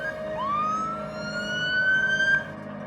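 An emergency siren wails close by, its tone rising and falling in slow sweeps over a steady low vehicle rumble, loud and unaccompanied by speech.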